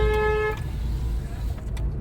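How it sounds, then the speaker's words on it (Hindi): A car horn gives one short, loud toot in a narrow lane in Nandgaon, over a close rumbling engine and road noise that continue after it. "हॉर्न दे के चलते रहना"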